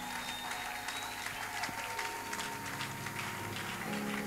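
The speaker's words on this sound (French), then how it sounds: "Est-ce qu'il y a quelqu'un qui peut acclamer pour la gloire de Dieu?" A church audience applauding for the glory of God, a sustained wash of clapping from many hands that swells briefly, with faint voices underneath.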